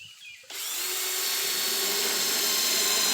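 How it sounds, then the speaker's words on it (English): A power drill starts up in a garden after a brief quiet moment and keeps running with a steady, loud whine that builds slightly, no voices over it. "You gotta drill some over here."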